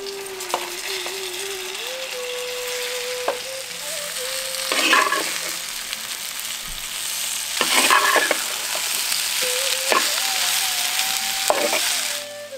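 Bitter gourd fries in a pan with tempering spices and rock salt for a South Indian tamarind gravy, a steady sizzle broken by a few clattering bursts of stirring.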